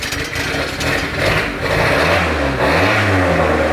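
Turbocharged Honda Civic engine starting up and revving after a throttle position sensor adjustment, loud and close, the pitch rising and dipping through a few throttle blips over a rough mechanical roar.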